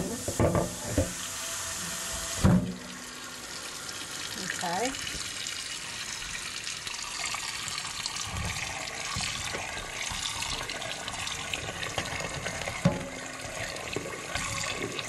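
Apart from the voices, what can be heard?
hot water running from tap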